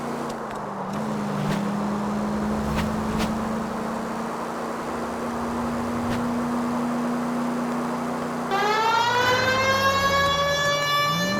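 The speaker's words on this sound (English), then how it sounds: "putting the siren on might remove the element of surprise from your hit and runs" A police car siren in the video game L.A. Noire wails steadily behind engine hum, then a second, higher siren with rich harmonics cuts in near the end, loud and close.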